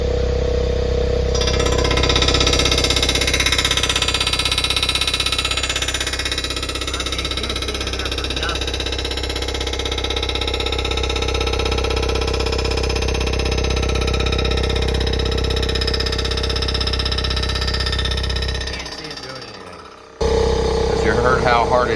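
A resurfacing machine cuts across the warped head surface of an overheated engine, a loud continuous grinding drone with a steady rhythmic pulse that runs for most of the time and then drops out abruptly near the end.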